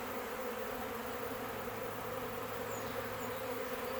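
A swarm of honey bees, several pounds strong and still in the air around the person catching them, fills the space with a steady, dense buzzing that holds unbroken and close throughout.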